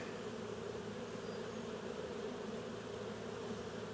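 Honeybees hum and buzz steadily around a hive as they search for a gap to get in, a dense, continuous close swarm drone without voices.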